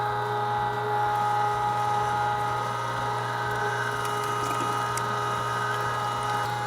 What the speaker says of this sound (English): I'm going to grind these together, so it doesn't matter kind of what order they go in